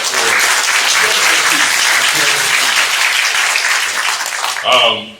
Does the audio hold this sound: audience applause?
yes